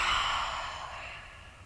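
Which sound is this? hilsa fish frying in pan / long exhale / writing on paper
long exhale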